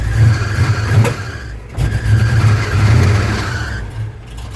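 A 1978 Ford F150 engine runs loudly and close by, with a steady low rumble and brief dips and surges in revs, and no voices over it.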